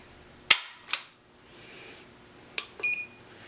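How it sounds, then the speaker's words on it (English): A Heckler & Koch USP 40 pistol gives sharp, close metallic clicks during single-action trigger pulls: two quick snaps, a pause, then another click followed by a short ringing tone. "Single action trigger pull."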